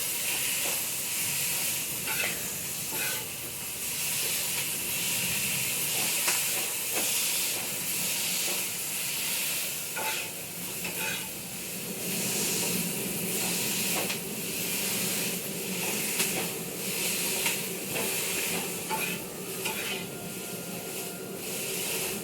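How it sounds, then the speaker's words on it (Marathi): Stuffed brinjal roasting in a pan with oil added a little at a time, giving a steady hiss and sizzle that runs throughout with no talking. "एकदम तेल टाकायचं ना, असं थोडं थोडं टाकत भाजायचं."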